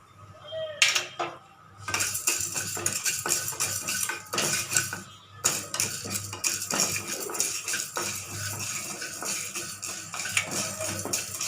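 Cumin, pepper and fenugreek are dry-roasted in a pan, with a spoon scraping and clinking against the metal in irregular bursts and short pauses, fairly close and with no talk.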